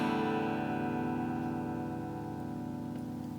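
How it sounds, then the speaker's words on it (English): Open strings strummed once on a Strat electric guitar with raw vintage tremolo springs, a single bright chord ringing out steadily and slowly decaying with faint spring resonance, close and alone. "I'm just going to strum the open strings."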